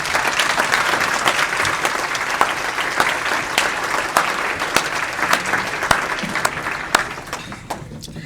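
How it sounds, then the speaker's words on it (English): A room of Rotary club attendees gives guests a round of welcoming applause, sustained crisp clapping from many hands that thins toward the end. "let's welcome our guests with a round of applause"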